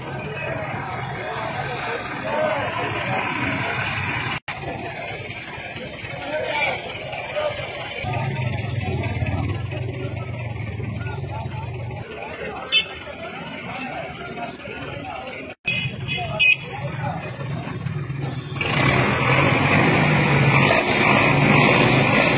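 A tractor pulls a parked car out of a canal, its engine rumbling and idling steadily under a babble of gathered onlookers talking, with the engine note rising louder toward the end.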